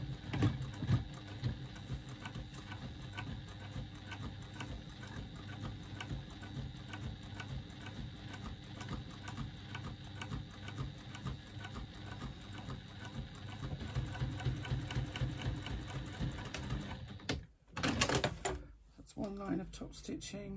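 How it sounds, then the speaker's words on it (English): A sewing machine top stitches along the top edge of a fabric bag pocket, a steady faint rhythmic whirring that runs on for many seconds, broken by a short handling noise near the end. "I'm now going to do a line of top stitching along the top edge of my pocket"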